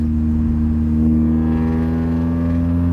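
A car engine with modifications runs at about 2,500 RPM, making a loud, steady, droning rumble with a rough, buzzy tone that holds at a constant pitch, with no voices.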